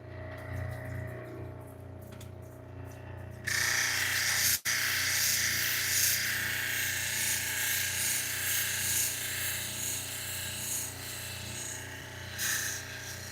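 Flint and larimar with natrolite being ground into a cabochon at 1200 grit, a steady wet rasping hum with a motor drone beneath, growing louder after a few seconds and continuing throughout.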